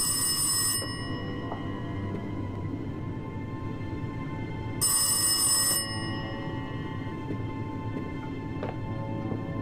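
Telephone ringing in the psychological horror game Rise of Insanity: a shrill bell burst at the opening, then a second ring several seconds later, both over a constant dark low hum, no voices.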